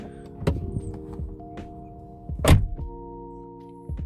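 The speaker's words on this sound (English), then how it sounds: "It's pretty decent close." A 2016 Jeep Patriot Sport door shuts with a few dull thunks, the loudest near the middle, against a low engine-like hum and faint bird chirps.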